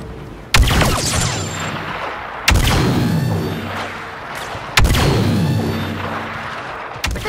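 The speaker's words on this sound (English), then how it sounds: "That guy just shooting a turret?" Three heavy, booming turret blasts on Hoth in Star Wars Battlefront 2, spaced a couple of seconds apart, each loud and close with a long rumbling decay.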